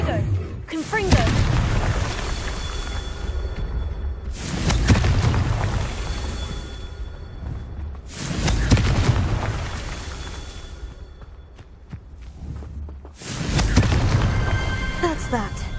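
Repeated Confringo fire-spell blasts in the Hogwarts Legacy game, four loud booming bursts spaced a few seconds apart, each with a rumbling low tail, over continuous game sound.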